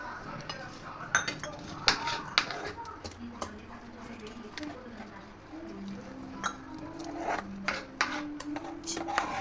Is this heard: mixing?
yes